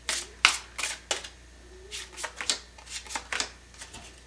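Tarot cards are shuffled by hand in quick riffling bursts, about a dozen short papery flutters in an irregular rhythm, close and fairly crisp, with no talking over them.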